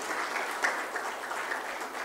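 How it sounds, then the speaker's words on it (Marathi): Audience at a Maharashtra business conclave clapping steadily, a dense, even wash of many hands at close range, sustained throughout with no voices over it. "Keep the claps going."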